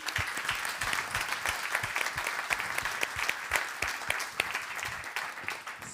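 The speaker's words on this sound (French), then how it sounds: "Je crois qu'on peut les applaudir." A conference audience claps for the event's two organisers, a steady, dense patter of many hands with sharper individual claps standing out, sustained for the whole stretch at moderate distance.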